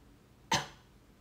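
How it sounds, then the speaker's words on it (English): A single sharp, close cough, demonstrated as a heart-arrhythmia cough, bursts out once and fades quickly against a quiet background. "It's a heart arrhythmia cough."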